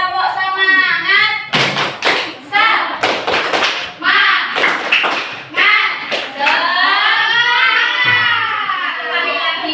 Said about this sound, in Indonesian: Oke, kita tepuk dulu. Tepuk semangat.